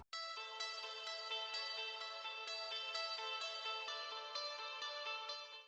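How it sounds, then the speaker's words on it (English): A bright, shimmering guitar pattern with plucked notes repeating steadily, held at an even level throughout and heard alone. "And this guitar loop which sounds like this."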